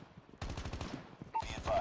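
Rapid hip-fire gunshots from a Call of Duty Mobile multiplayer Domination match crackle in quick bursts, loud and close, with a short pause before another burst.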